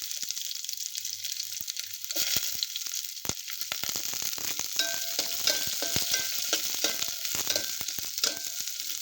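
Onion fries in a pan with garlic for tomato soup, giving a steady crackling sizzle broken by scattered sharp pops and spatula scrapes throughout.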